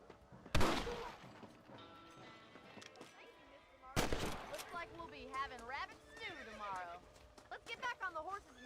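Two sharp, booming gunshots a few seconds apart in the video game Red Dead Redemption, each with a ringing tail, while someone talks in between and afterward.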